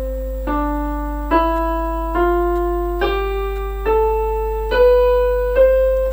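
Single notes played one after another on a basic musical keyboard, eight clear sustained tones rising step by step like a scale, each struck cleanly and ringing alone without any talk.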